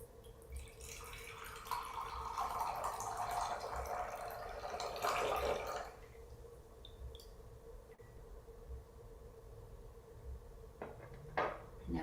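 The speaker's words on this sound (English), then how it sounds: "I'm going to pour my tea." Liquid pouring in a steady stream for several seconds, then stopping, followed by faint drips and a few light clinks of a cup.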